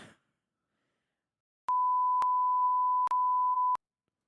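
A censor beep, a steady pure tone of about two seconds cut by brief clicks into several segments, loud and isolated after a moment of quiet.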